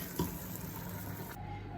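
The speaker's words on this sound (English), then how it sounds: "I'm just adding a little bit of water because I like mine to be a little bit thinner" Water poured from a tap into a pot of dal being thinned on the stove, a continuous close rushing flow for under two seconds with no talk.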